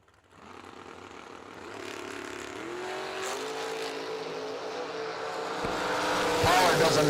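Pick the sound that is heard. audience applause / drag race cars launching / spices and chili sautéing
drag race cars launching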